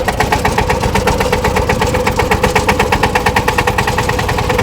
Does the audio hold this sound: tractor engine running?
yes